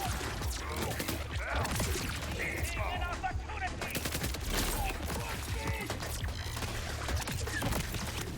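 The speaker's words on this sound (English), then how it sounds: "let's see this new grenade go" A grenade in a video game goes off amid dense, crackling bursts of rapid gunfire-like pops and mechanical clatter, steady and fairly quiet throughout, with a voice faintly present.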